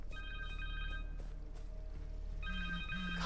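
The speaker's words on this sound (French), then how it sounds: "Connor's cell phone." Connor's cell phone rings in Marvel's Spider-Man 2 in two distinct electronic warbling bursts separated by a short pause, fairly clear over a low steady hum.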